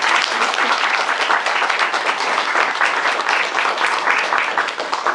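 Steady, moderately loud clapping from an audience at a Brahma Kumaris women's day celebration, a continuous crowd wash of hands with no talk over it.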